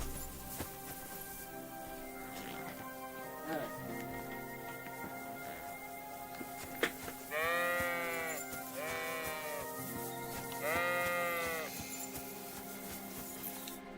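Sheep bleating in the medieval world of Kingdom Come: Deliverance II, three clear bleats in succession standing out over a steady ambient game background with some faint earlier sounds.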